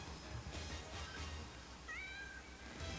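Cheshire the cat meows in Bayonetta, a few short rising mews standing out over a steady game soundtrack and low rumbling background.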